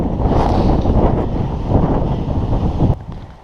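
Strong wind on a coastal hill path between Stonebarrow Hill and Golden Cap on the South West Coast Path buffets the microphone in a loud, rumbling roar that eases abruptly near the end.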